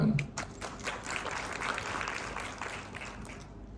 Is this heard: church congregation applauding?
yes